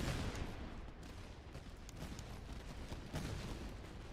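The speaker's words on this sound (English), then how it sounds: "Just want to hear the gunshots." Dense, continuous musket gunfire crackles from massed battle volleys in the strategy video game Master of Command, a steady roar of overlapping shots with no pauses.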